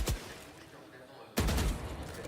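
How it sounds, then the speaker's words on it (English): Gunfire in a Valorant esports semifinal match: a sharp shot opens the clip, then a louder dense burst of rapid shots follows after a short gap, with faint background noise. "3 bullets, has to pause, go for the reload, but Scuba will find him eventually."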